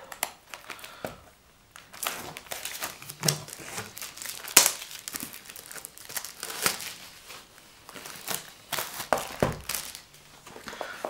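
A box of 2022 Bowman University Chrome trading card packs is torn open. Crinkly foil wrappers are crumpled, packaging tears, and cards are handled in repeated bursts of close rustling, with no speech.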